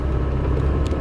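A faulty car stuck in low gear while driving, a loud, steady low engine drone and rumble heard from inside the cabin with no speech.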